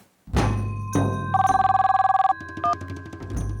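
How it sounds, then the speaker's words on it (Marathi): A landline telephone rings in a home, giving repeated electronic trilling bursts that sound close and loud, with a short pause and a brief extra chirp between them. "फोन लँडलाईनवर. कोणाचा असेल बघ ना जरा."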